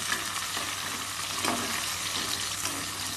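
Shallots, dried chillies and curry leaves fry in a pan with a steady close sizzle, and a spoon stirs and scrapes now and then through the crackle.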